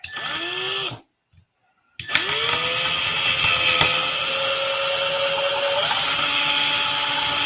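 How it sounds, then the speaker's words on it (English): A small Mexican-made drill press runs with a steady motor whine in a workshop, briefly stopping for a second of silence before restarting and spinning continuously at close range. "A little Mexican drill press here."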